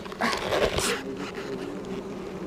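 Honeybees swarm around an open hive during a spring inspection, a close, wavering buzz that swells loudly as bees pass near, then settles into a softer steady hum.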